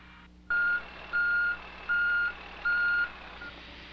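A road grader's reversing alarm gives four steady, evenly spaced electronic beeps over a low engine rumble, fairly loud and alone.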